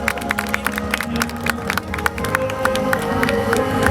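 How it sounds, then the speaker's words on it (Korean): Crowd applause at a 2010 Chuncheon Marathon award ceremony: dense, continuous clapping from a large audience, loud and sustained throughout, with some cheering mixed in. "다시 한번 뜨거운 박수로 축하를 부탁드립니다"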